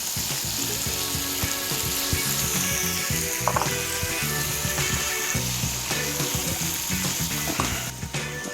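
Shrimp dropped into a hot pan with crisped sausage and tomato for shrimp and grits; a loud, continuous sizzle with rattling, clicking spatula and pan noises, no one speaking.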